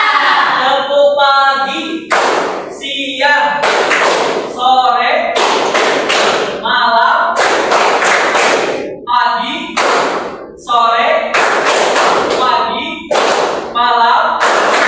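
A group of people claps in a rhythmic clapping game, loud bursts of unison clapping in counted groups, with brief pauses between them and a voice talking in the gaps.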